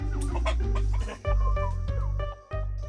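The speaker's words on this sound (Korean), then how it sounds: "수확 작업이 한창인 농장에 갑자기 닭이 등장했다" Chickens cluck repeatedly and close by on a yam farm during harvest, with layered hen calls in short bursts and a steady low background rumble underneath.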